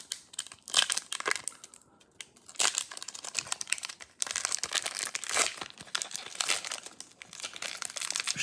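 A Pokémon booster pack's foil wrapper is torn and crinkled open, giving close, continuous crackling and rustling bursts with a brief pause near the start and no talking.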